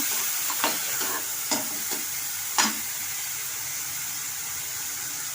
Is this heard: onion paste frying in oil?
yes